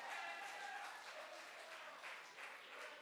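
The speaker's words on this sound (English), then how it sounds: "give Greg a round of applause" Audience applause at a talk, a steady faint wash of many hands clapping that holds for a few seconds and thins slightly toward the end.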